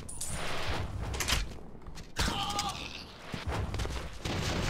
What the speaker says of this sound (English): Where did that explosion come from?